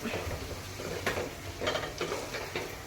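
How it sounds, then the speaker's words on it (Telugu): Chicken curry simmers on low heat in a pan while a spoon stirs and scrapes, giving a few distinct clinks and scrapes over a faint, steady bubbling sizzle, close up. "ఒక 2 minutes అలా సిమ్ మీద ఉడికించుకుందాం, ఆయిల్ బయటకు వచ్చేంత వరకు"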